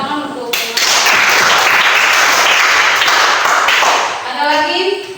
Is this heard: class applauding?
yes